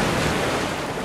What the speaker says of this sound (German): Dann schnell wieder weg. Von der lauten Brandung.